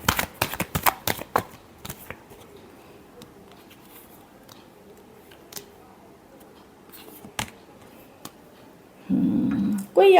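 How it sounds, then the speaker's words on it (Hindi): Tarot cards riffled in quick bursts at the start, followed by a few isolated soft card taps over quiet background, then a brief louder handling noise near the end; nearby and without speech. "Last shuffle."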